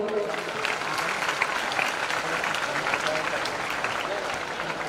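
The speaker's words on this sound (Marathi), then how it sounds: "या सर्व संयोजक मंडळीसाठी का टाळ्या दे" An audience at a children's fair during the Marathi literary conference in Amalner breaks into sustained, dense applause for the organisers, an even roar of clapping with voices mixed in.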